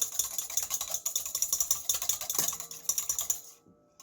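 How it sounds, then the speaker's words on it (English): One egg is whisked in a mixing bowl for cornbread batter, a quick, close clattering of rapid rhythmic strokes that stops after a few seconds. "I'm going to whisk 1 egg in a mixing bowl."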